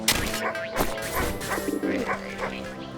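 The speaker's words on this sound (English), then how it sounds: "This anxious little dog attempts frantically to get town's guard attention" A small, anxious sheepdog in the video game Wytchwood barks in quick, high yipping bursts, several close, sharp barks in an uneven frantic rhythm over a faint sustained musical tone.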